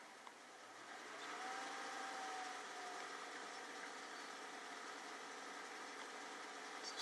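A car engine, fitted with different spark plugs, is brought up to about 1,500 RPM; a faint, steady mechanical hum swells slightly early on and then holds level and even.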